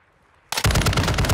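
Video game weapon fire bursts in abruptly after a quiet moment, a loud, rapid automatic stream of shots that continues to the end.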